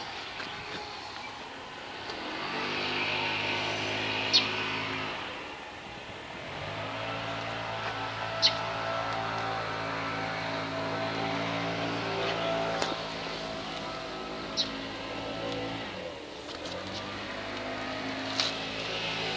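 A neighbor's blower drones steadily and loudly throughout, a motor hum with a harmonic whine that swells and dips in waves, with no talking over it.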